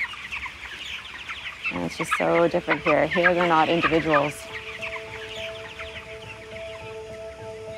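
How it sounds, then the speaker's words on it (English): Chickens in a crowded barn packed with thousands of birds cluck loudly and rapidly in a close burst, while someone speaks and a steady mechanical hum continues underneath. "I'm covered in chickens right now."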